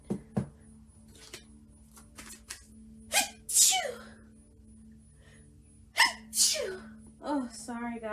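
Several sharp sneezes from a person with allergies burst out over a quiet indoor room, spaced across the stretch, with brief breaths between them.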